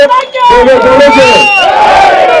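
A political rally crowd in Karnataka shouting a loud chant of cheers for Deve Gowda, voices swelling together in a sustained, near, raucous roar after a brief pause.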